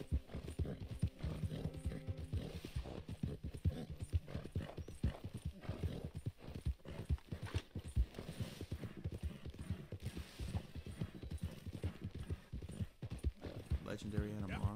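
Clip-clop of horse hooves from the video game Red Dead Redemption 2 on PS5, a steady trotting rhythm up close, joined by a horse's whinny, with game sounds and someone talking over it.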